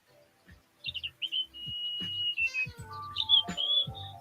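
Birds call with a run of bright chirps and whistled notes, some trilled, repeating over a few seconds with soft knocking sounds underneath and no voices.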